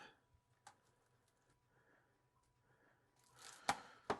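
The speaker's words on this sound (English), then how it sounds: "take the plastic, gently lay it on the bowl, cut that" Plastic wrap laid over a bowl is cut, giving a quiet near crinkle that builds into a few sharp snips and tearing crackles at the end, after faint scattered handling noises.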